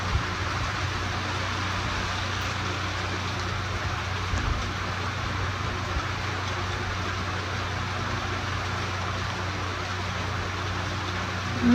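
Steady rain falls throughout, a constant dense hiss with a low rumble underneath, even and unbroken from start to finish, with no voices.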